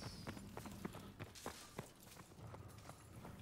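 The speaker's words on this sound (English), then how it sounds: "Footsteps are super loud in this game." Footsteps in the Call of Duty: WW2 shooter, a quick series of sharp irregular steps over a busy bed of game noise, fairly close and loud with no talk over them.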